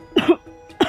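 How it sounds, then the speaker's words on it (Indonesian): Two harsh, close coughs, a rough double hack followed by another sharp cough, alone in a quiet room. "Batuk hebat akhirnya pecah."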